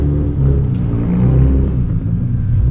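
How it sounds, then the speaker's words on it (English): Loud car engine rumbling and revving up close, a deep steady roar with no talk over it. "Look, you gotta listen to his car."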